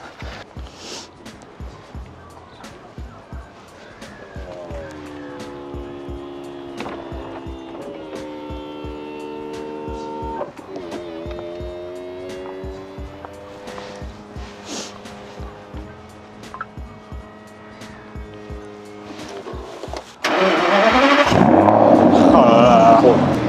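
A convertible Aston Martin DB9 Volante Mansory, rated at 600 hp, starts up with its top down and settles into a steady, close rumbling idle, then breaks into a loud, harsh rev at the end while people talk nearby.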